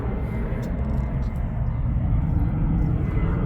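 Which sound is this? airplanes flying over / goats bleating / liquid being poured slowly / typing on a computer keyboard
airplanes flying over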